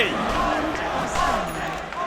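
Crowd noise at an esports arena during a Dota 2 playoff match between Team Falcons and OG at ESL One Birmingham 2024, a steady roar of cheering fans rising behind OG, continuous and fairly loud with voices mixed in.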